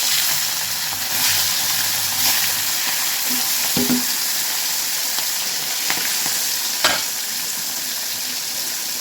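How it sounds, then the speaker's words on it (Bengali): Fish frying in hot mustard oil in a wok gives a steady, loud sizzle and hiss throughout, broken by a few clinks and scrapes of stirring. "তেল গরম হয়ে গেছে, আমি মাছগুলো ছেড়ে দেবো"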